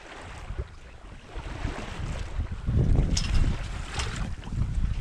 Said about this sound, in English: This is nice to be sailing across and be able to take a break.